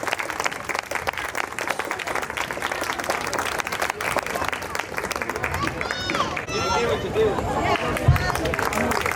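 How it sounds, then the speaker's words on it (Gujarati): A crowd claps loudly and continuously at a society Navratri garba festival, dense applause mixed with chatter and babble of voices throughout, a few whistles near the end. "જોરદાર તાળીઓ થઈ જાય."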